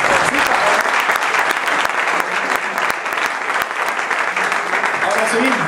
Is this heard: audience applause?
yes